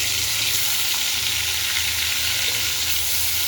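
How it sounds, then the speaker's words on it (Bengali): Pieces of rohu fish fry in oil in a pan, giving a steady, close, crackling sizzle with a low hum underneath that carries on evenly with no talking. "এটাতেই আমি এখন মাছগুলো ভেজে নেব আর একটু তেল দিয়ে দিব"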